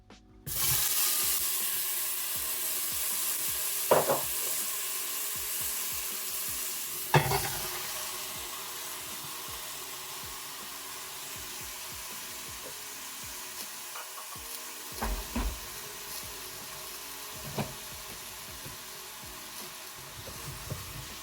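Roughly chopped leeks frying in a pan with a light spray of oil, a steady soft sizzle throughout, broken by a few sharp stirring scrapes and clatters.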